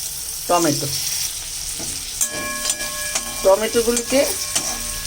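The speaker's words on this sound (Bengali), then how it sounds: "টমেটোগুলিকে একটু কষিয়ে নেব পেঁয়াজের সঙ্গে।" Tomatoes sauté with onions in a pan for a Bengali sidol chutney, a steady sizzle broken by clattering spoon strokes and scraping stirs, close and fairly loud, with no talk.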